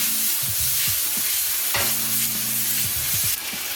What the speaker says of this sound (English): take the shrimp and the sauce and add that in there